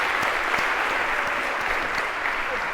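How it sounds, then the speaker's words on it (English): A lecture audience in a CS50 algorithms class applauds eight volunteers with dense, even clapping that holds steady throughout at moderate loudness, with no voices over it. "a round of applause for our 8 volunteers for helping to act this out"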